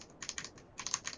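Quick keystrokes on a computer keyboard, two short clusters of soft, close clicks separated by a brief pause, with no voice.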